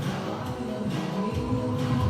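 Zumba dance music blares from a neighbour's loudspeaker, a steady, dense beat heard from some distance and slightly muffled, with no talking over it.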